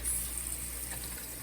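Water running from a tap at a sink, a steady close hiss of flowing water with no break.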